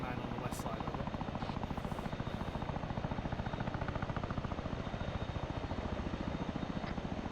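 Helicopter in a military video game with a steady, loud rotor chop that pulses rhythmically throughout at close range, with faint radio-style chatter underneath.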